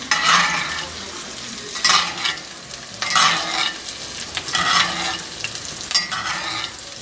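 Steak basting in butter in a hot pan, loud bursts of sizzling and spattering that swell and fade in repeated waves about every second or so, with pan scrapes between them.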